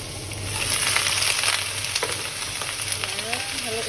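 Vegetables hit hot oil with garlic in a pan and give off a steady, close sizzling and frying. A few faint clinks from stirring sound over it.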